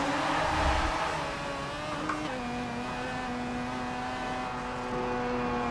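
A Mazda RX3 drifting in Forza Motorsport 7, its engine holding a steady droning tone, loud at first then settling into a sustained whine with faint tire noise.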